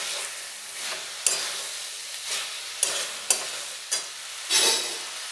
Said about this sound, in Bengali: খুব ভালোভাবে মিশিয়ে নেব।